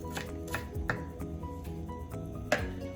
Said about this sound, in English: You can cut your onion this way.